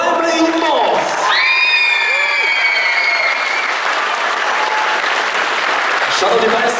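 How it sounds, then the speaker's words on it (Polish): Loud crowd applause and cheering in a shopping gallery for the AZS Koszalin basketball team presentation, dense continuous clapping with whoops and shouts, and an amplified voice speaking over it near the start. "wielkie brawa dla nich, dajmy im moc!"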